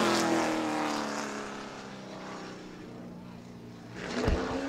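A Pro Late Model race car runs a qualifying lap at Auburndale, its engine roaring loud and steady close by, then fading a little before a brief surge, with an announcer talking over it.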